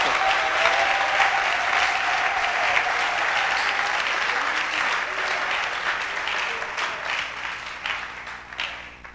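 A church congregation claps together in loud, sustained applause that fills the hall. It tapers slightly toward the end into looser, more scattered claps.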